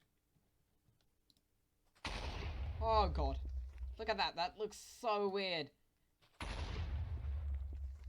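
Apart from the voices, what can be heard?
explosions with doubled explosion power in video game Minecraft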